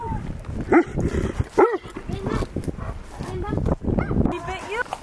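A dog on a horseback-riding farm in Ecuador yips and barks in short, loud bursts near the listener, mixed with agitated human speech and shouting.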